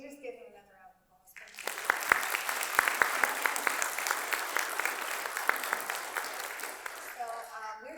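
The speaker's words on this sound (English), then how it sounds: "Can we just give him another round of applause?" Conference audience at a blood cancer event breaking into applause after a keynote, dense clapping with sharp individual claps rising and sustained for several seconds, with speech before and after.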